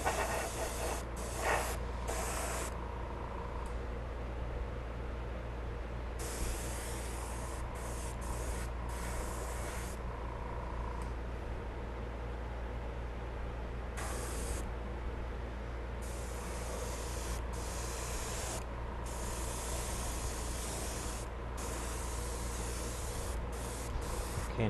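Airbrush spray painting the engine nacelles of a 1:350 scale Enterprise refit model kit, a steady close hiss running continuously with short breaks and bursts as the trigger is released and pressed again.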